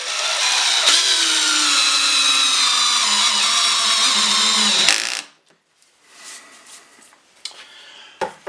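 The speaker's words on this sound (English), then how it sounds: "now we'll put the 3 3/4 inch screw in here" A power drill whines steadily at high speed for about five seconds driving a 3 3/4 inch wood screw into a patio chair, then stops abruptly, leaving faint handling clatter and a few small knocks.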